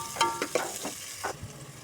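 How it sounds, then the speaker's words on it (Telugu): Green chillies fry in a pan with a soft, close sizzle and a few quick scraping stirs. "పచ్చిమిరపకాయలు, వీటిని వేయించుకోవాలి."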